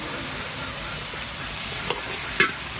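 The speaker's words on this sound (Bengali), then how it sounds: "এখন আমি মাংসগুলো দিয়ে দেব।" Meat dropped into spice masala already fried down in a pan while cooking rooster curry, giving a steady close sizzle with a couple of sharp spits and clatters near the end.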